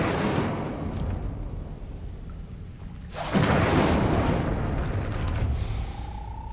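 A fire spell blast in Hogwarts Legacy, a rumbling whoosh that swells into a loud booming roar midway and then settles into a sustained crackling rush.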